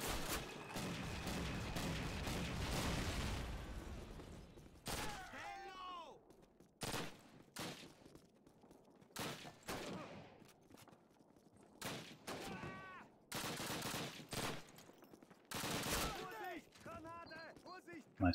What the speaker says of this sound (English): Machine guns! Machine guns ready!